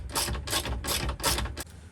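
A bolt and nut being tightened on an aluminium bulkhead in an Iveco Daily campervan build, with four or five loud, rapid bursts of ratcheting clicks at a steady rhythm, close up and with no talking.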